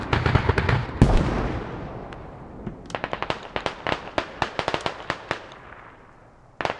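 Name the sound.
mortar shells landing, from a video game match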